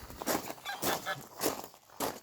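Geese on a French farm honk in a run of short, loud calls of varying pitch, repeated every half second or so and fairly close.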